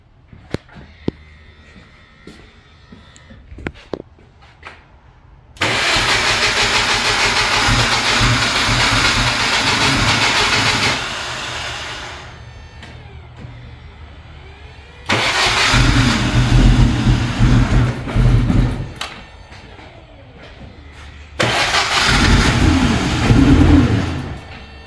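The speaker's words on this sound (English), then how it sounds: "Mike and I are going to try and start the car for the first time." A K24 engine swapped into an R53 Mini starts up first time inside a garage: cranking and catching into three loud running bursts with idling and revving, separated by quieter pauses, no talk.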